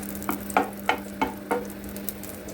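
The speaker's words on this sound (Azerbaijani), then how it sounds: "İndi tavaya biraz kərə yağ əlavə edirəm." Butter sizzling in a frying pan while cooking borscht, a soft steady fry hiss under five evenly spaced scraping strokes of a utensil across the pan.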